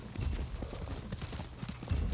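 Horse hooves galloping in Ghost of Tsushima, a rapid, steady clip-clop rhythm thudding close and loud throughout without pause.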